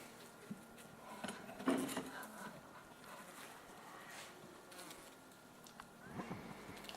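Russian honey bees clustered indoors in an unheated room, a faint, low buzzing hum with small clinks and knocks close by.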